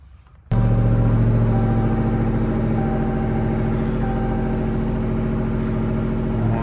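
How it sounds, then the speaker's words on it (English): A pickup truck engine cranks and fires up after a brief quiet moment, then settles into a loud, steady idle close by with a deep rumble and no voices. "Gonna go ahead and start the truck back up and see if we got power steering now."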